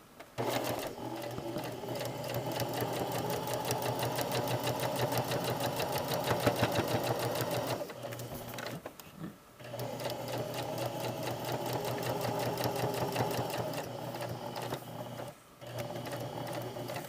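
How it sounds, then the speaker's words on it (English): A sewing machine stitches slowly around a curved lined patch pocket, its needle chattering in a steady close rhythm across two long runs separated by a brief pause. "Do you see when I slow down to do the corner, I'm almost doing one stitch at a time."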